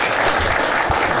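Audience at a city plan commission meeting clapping, a brief, loud burst of dense applause filling the short moment without any talking.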